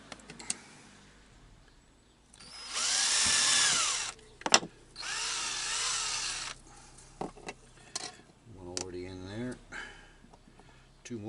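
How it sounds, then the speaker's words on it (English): Power drill boring a series of holes in plastic inside a camper van, two sustained loud whirring bursts with shorter spins and taps between, and a voice talking briefly near the end. "just drilling this to take quite a few holes. It's only plastic."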